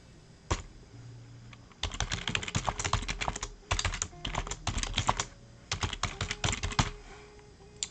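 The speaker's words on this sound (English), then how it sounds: "I know you guys hear me hammering the keyboard." Rapid bursts of keyboard typing, loud and close, in several clusters separated by short pauses, with faint tones humming underneath.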